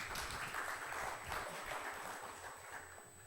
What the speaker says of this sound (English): We'll tell them that you applauded for them.